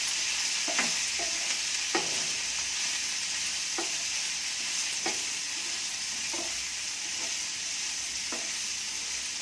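Carrot and bean pieces being stirred in a sizzling frying pan, with a steady fry hiss and a series of scraping spoon strokes against the pan at irregular intervals, close and fairly quiet.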